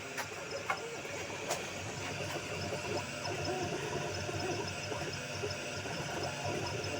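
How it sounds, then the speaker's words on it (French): A fan runs at high speed on an Atomstack A5 Pro laser engraver during engraving, giving a steady, fairly quiet broadband whir with a few faint clicks and knocks near the start. "je mets le ventilo en haut"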